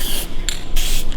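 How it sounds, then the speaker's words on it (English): Aerosol can of Sharkhide metal protectant sprayed onto a pontoon boat trailer, giving three close, loud hissing bursts of varying length with short pauses between them. "So we just basically spray everything down with the aerosol first."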